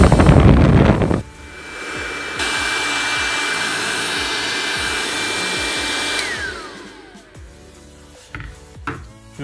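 A corded electric air pump inflator, one of two compared, switches on after a loud burst and runs with a steady whining drone for several seconds, then winds down with a falling pitch.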